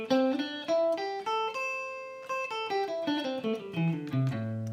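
An A pentatonic scale played note by note without the flat five, a clean, close melodic run of single tones descending in steady rhythm, with no voices.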